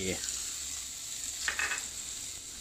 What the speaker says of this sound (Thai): ทำการผัดนะครับ ผัดให้กระเทียมเราเหลืองหอม